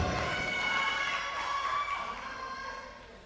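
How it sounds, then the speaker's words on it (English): A crowd cheers at a strongman competition, a loud wash of shouting and whistling voices that swells early, holds, then fades slightly toward the end. "That's got the crowd going."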